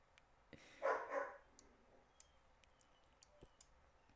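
A pet dog gives a short burst of two or three barks, heard at a distance and muffled, followed by quiet room noise with faint clicks.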